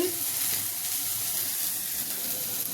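Neela charu, a thin rasam, simmering in a pot on the stove: a steady, dense hiss and fine bubbling crackle that holds at an even level throughout, with no break or pause.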